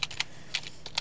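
Typing a command on a computer keyboard: about six quick, close key clicks in two small clusters with a faint steady hum beneath.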